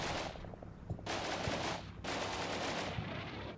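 Gunfire from the video game Combat Mission: Black Sea during a Russian assault along an urban avenue: loud rattling bursts of automatic fire with short pauses between them.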